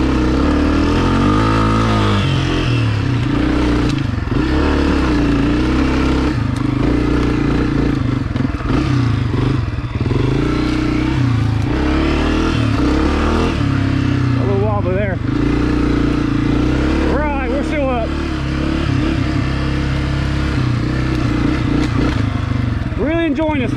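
A Honda CRF250F dirt bike on a Hatfield McCoy trail runs steadily and loud throughout, its engine rising and falling in pitch as the rider shifts and revs, with rattling and scraping over the rough ground.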